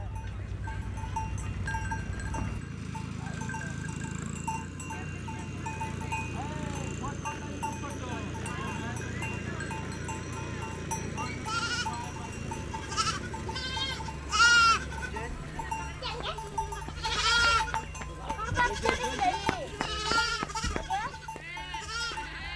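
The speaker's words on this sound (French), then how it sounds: "les cloches qui tintent au cou des chèvres" Small bells on goats' necks clink and jingle irregularly amid goat bleats in an outdoor rural setting in India, with a person talking over the scene.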